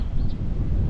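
Strong wind buffets the microphone outdoors near a new boat, a dense low roar and rumble that fills the whole second without a break.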